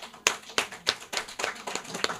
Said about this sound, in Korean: 수고하신다고 박수 쳐드리겠습니다.